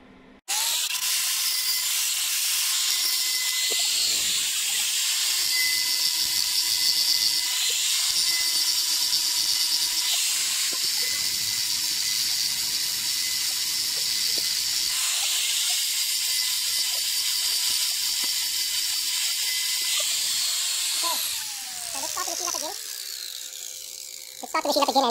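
An angle grinder runs steadily for about twenty seconds while taking metal off a centrifugal pump impeller to balance it, a loud continuous whine that winds down near the end.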